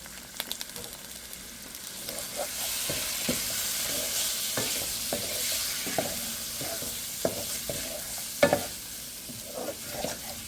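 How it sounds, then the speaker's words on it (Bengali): Shrimp sautéing in a pan for a sour curry with potato, eggplant and raw mango, turmeric added, with a steady close sizzle and repeated scraping stirs of a utensil against the pan. "চিংড়ি মাছটা ভালোভাবে কষাতে হবে।"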